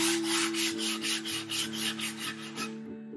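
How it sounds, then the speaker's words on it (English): Hand sanding a wooden shelving hat and coat rack with 80 grit sandpaper, a close, loud rhythmic rasp of about a dozen back-and-forth strokes that stops near the end, with no talk. "So you just go around your rubber marks here and get them, sand it off."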